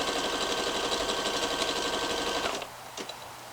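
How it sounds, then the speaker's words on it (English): A sewing machine stitching down the seams of Frances leggings runs at a steady, fast, close hum for about two and a half seconds, then stops abruptly, leaving quiet handling noise. "Just matching up those seams, stitching all the way down."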